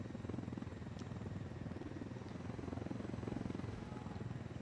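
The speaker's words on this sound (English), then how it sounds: "There's your stupid helicopter." Helicopter in the video game Ghost Recon Wildlands, a steady low rotor drone that holds at an even, moderate level throughout without a break.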